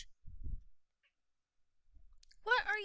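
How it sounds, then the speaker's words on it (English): A cat meows once near the end, a short close vocalization following a brief low thump and a quiet stretch. "Cat."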